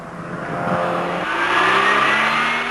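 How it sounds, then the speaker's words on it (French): A Peugeot car engine revs and climbs through the gears, a close, continuous rising drone with a brief dip at a shift. "Le moteur Peugeot, plus rageur que musclé, est bien épaulé par une boîte impeccablement étagée"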